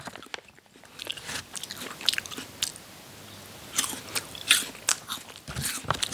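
Close crunchy biting and chewing of ready-to-eat water chestnuts from the V Farm brand, with irregular crisp crunches scattered through the chewing and no talk over them.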